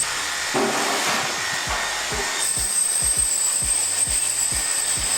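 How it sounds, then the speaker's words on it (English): A power chipping hammer pounds in a rapid, steady rhythm of heavy thuds against hard tile, with a high mechanical whine behind it, close and loud. "maybe have 40, 50 square foot of the tile torn up using an 11-pound chipping hammer"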